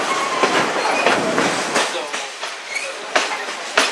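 Great Smoky Mountains Railroad excursion train pushed by an FA diesel and a GP10, heard from aboard as a steady rumbling roll with rhythmic clickety-clack wheel beats and occasional squeal, fairly close and continuous.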